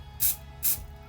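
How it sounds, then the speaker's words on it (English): Two short hissing bursts of extra hold aerosol spray onto a thrifted vintage snapback cap, each about a fifth of a second, soft and close in a quiet room. "We're gonna take our special extra hold spray, and I'm gonna just kind of do it from afar."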